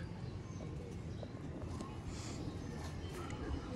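A golden pigeon coos softly within steady, broadband background noise, its low murmuring calls faint and partly masked throughout.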